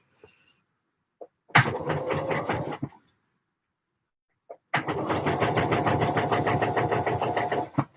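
A home sewing machine stitches the back seam of a Deer and Doe Lupin jacket in two runs: a short burst of fast, steady needle chatter, a pause, then a longer continuous run, close and clear.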